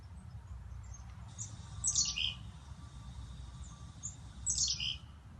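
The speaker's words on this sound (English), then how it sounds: "Chickadees also make a kind of a garbled sound" Chickadees make a garbled call: two short, jumbled bursts of high chirping notes a few seconds apart, fairly faint over steady outdoor background noise.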